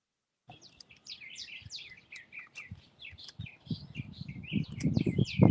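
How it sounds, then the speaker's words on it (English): Outdoor birds sing and chirp continuously in a lively, fairly loud chorus, with bright overlapping calls, while nearby rustling and handling noise grows louder toward the end. "So, what birds are we hearing out there?"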